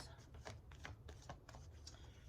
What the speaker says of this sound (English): I'm going to shuffle for Aquarius.